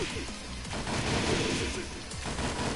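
Gunfire in the Tekken 7 fighting game, a rapid burst of loud shots with crashing impacts, dense and continuous across the whole moment.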